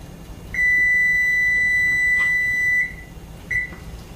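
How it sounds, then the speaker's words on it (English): A kitchen timer beeps while sand plum jelly is being made, one long continuous high-pitched tone lasting about two seconds followed by a short second beep, clear and fairly close against a quiet room. "my timer's getting ready to go off"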